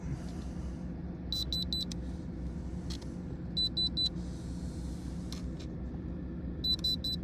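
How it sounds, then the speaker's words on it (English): A thermal conductivity tester pressed against a stone gives three short bursts of high electronic beeps, repeated at intervals, over a steady low background hum, no speech. "Thermal conductivity tester."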